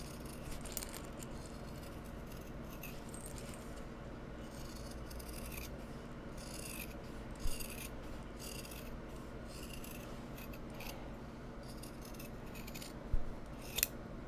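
Scissors trimming the seam allowance on Japanese fabric for a small sling bag, a steady stream of close, soft snipping and rasping cuts with a few sharper clicks of the blades.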